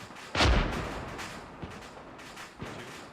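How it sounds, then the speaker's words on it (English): Artillery shelling in the video game Arma gives one heavy distant boom followed by a rumbling tail, then two fainter far-off thuds. "That sounds like shelling."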